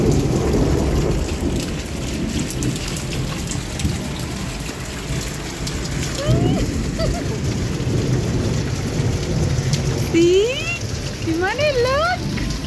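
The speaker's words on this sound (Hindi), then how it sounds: "बहुत तेज़ बारिश हो रही है।" Heavy rain pours steadily in the UAE with low thunder rumbling beneath, dense and continuous, while birds chirp faintly and briefly in the background near the end.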